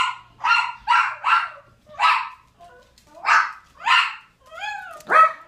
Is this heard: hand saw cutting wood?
no